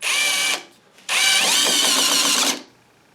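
RIDGID Gen5X Stealth Force 18V brushless oil pulse driver sinking a screw: a short high whine, a brief pause, then a longer close, loud whirring run with a rapid pulsing texture before it stops.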